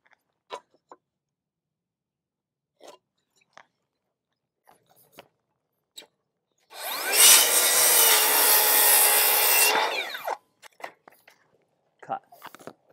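A power saw rips through a cedar board for a fence frame in one loud, whining cut of about three seconds, with scattered knocks and clicks of handling before and after.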